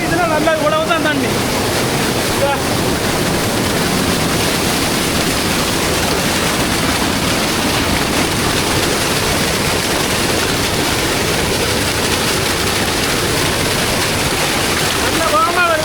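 Fast-moving stream water rushing steadily in a village in Kilinochchi, a dense, loud wash of flow filling the whole stretch with no break.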